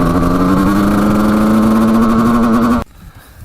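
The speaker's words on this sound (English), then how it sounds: "we're bogging pretty good in first and second, but then in third it just takes off like crazy" A 1989 Suzuki RM250 two-stroke dirt bike engine bogging in low gear, a loud, steady droning buzz held at one pitch that cuts off abruptly near the end.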